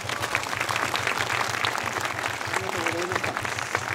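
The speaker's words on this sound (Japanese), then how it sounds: "もう一度大きな拍手をお願いいたします" Applause from a festival audience at the Chichibu night festival, a dense steady clatter of many hands under a rhythmic low drum beat, with a voice briefly heard.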